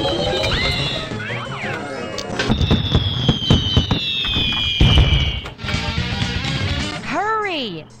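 Fireworks bursting in a pinball video game, a dense run of sharp crackling pops and bangs mixed with whistling synthetic game tones and sweeping electronic effects, loud and busy throughout.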